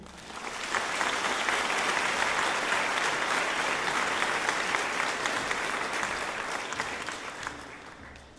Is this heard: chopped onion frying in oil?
no